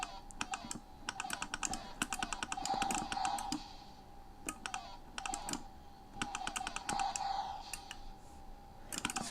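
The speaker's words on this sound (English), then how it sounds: "Probably hear this joystick going off a fair bit too now" Joystick on an Amstrad CPC fitted with an M4 board, clicking in rapid irregular bursts of sharp taps during play, close and fairly loud with no talk.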